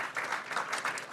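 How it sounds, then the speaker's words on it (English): Steady round of applause from attendees at a city council meeting, a dense, even wash of clapping with no talk over it. "Big round of applause for them."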